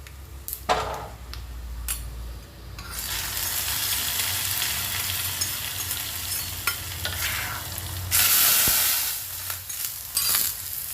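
Thick ground coconut paste poured into a pan of beetroot pachadi and stirred, a steady sizzle with scraping strokes that swells louder near the end, with no one talking.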